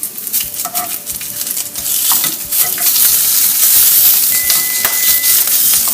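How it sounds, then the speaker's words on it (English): Sausage for breakfast burritos sizzles loudly in a pan while tongs flip the links, with sharp metallic clicks and scrapes over a continuous frying hiss and no talking. "So I'm going to flip the sausage."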